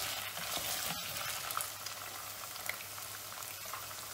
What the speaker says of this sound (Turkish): Etimizden çatırtılar gelmeye başladı